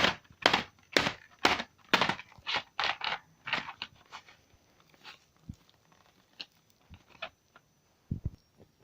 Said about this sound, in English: I'm going to bang the box again.